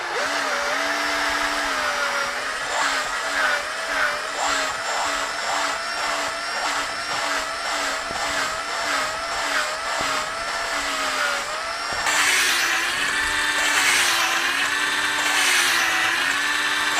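A steady whining power drill spins a valve grinding tool on a Kawasaki Z750 engine valve, grinding continuously with a cyclic rising-and-falling pitch, growing harsher and louder near the end.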